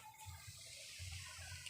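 Water poured over a newly planted plant, a brief, faint splashing trickle with soft gurgles, steady and close for under two seconds.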